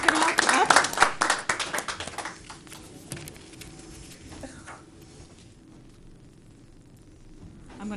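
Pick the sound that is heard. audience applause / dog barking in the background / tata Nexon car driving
audience applause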